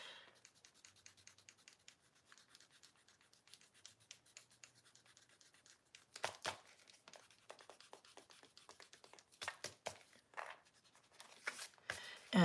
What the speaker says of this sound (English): probably should erase the pencil first.